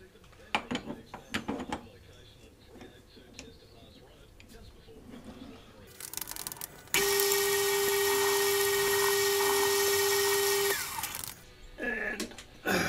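Scattered workshop clatter gives way to a lathe facing 12mm aluminium rod, a steady high whine lasting several seconds before stopping, with faint speech around it.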